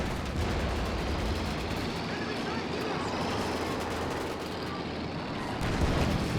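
Tank guns booming in a Company of Heroes 2 one-versus-one match, heavy rumbling fire and explosions layered in a dense battle din, with a commentator talking over it.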